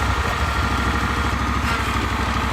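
A farm machine engine, numbered 1782 and fitted with a starter from a 2166, idles steadily, a loud, close, rhythmic low chugging with light mechanical clatter and no voices.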